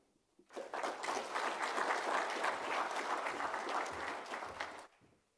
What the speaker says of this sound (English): Another round of applause for Mike